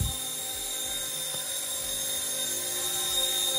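An RC ERA model helicopter hovers steadily, giving off a continuous, even, high-pitched motor and rotor whine that holds at a constant level throughout, with no talking.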